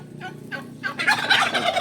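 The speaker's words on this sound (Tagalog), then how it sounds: "Ito yung mga pabo natin mga tropa." Several turkeys gobble in a burst of rapid, rattling calls, starting with short separate bursts and then building into a loud overlapping chorus close by, with no talking.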